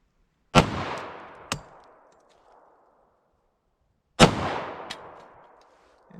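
Two sharp, loud .45 ACP gunshots from Hornady Critical Defense 185 grain rounds fired into wood, spaced several seconds apart, each with a ringing outdoor echo trailing off, with no speech.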